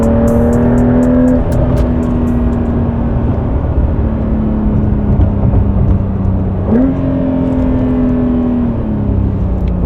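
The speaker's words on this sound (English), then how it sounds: "The downshifts are very smooth." A 2025 Porsche 911 Carrera S engine droning loud and close from the cabin, its pitch falling steadily then jumping up with a quick blip as it downshifts, before easing down again.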